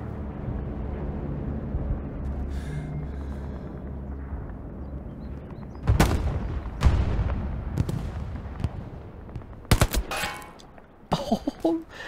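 MP40 submachine gun fire in the WWII shooter Hell Let Loose at Stalingrad, with sharp bursts and single cracks breaking through a low battlefield rumble, loud and close.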